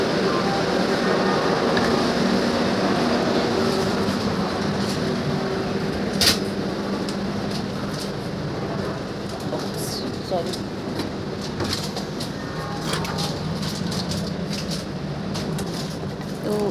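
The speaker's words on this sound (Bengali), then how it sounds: "দিয়ে দিয়েছে তাম্রলিপ্ত এক্সপ্রেস, এই যে।" Interior of the Tamralipta Express passenger train in a chair car coach, a steady rumbling hum and rattle throughout with occasional clicks and knocks, constant and fairly loud.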